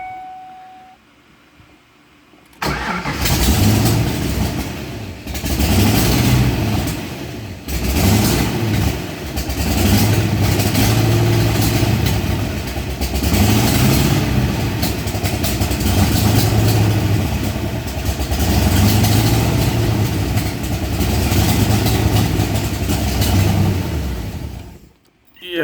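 Turbocharged car engine running lean on bigger injectors cranks and catches, then settles into a loud, steady, slightly uneven idle with periodic low surges, heard close up with no talking.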